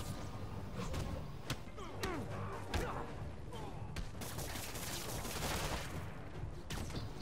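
Rockets and gunfire in a prison-breakout shooter game, with repeated sharp bursts and thuds scattered across a dense, busy mix of game noise, while people talk over it.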